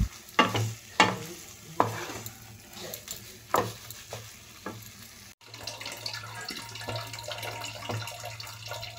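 Dal is sautéed in a pan, with a spoon scraping and stirring in several sharp strokes over a low sizzle, then a steadier frying hiss after a brief cut, with no speech.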